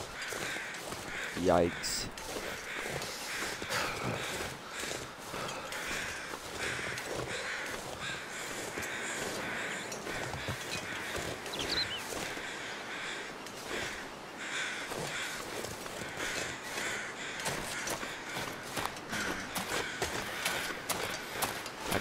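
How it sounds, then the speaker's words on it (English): Crows caw repeatedly in The Long Dark, harsh calls recurring over a steady outdoor wind-like background, while a person talks over them now and then. "look at all those birdies. All those little birdies. Flying over dead people."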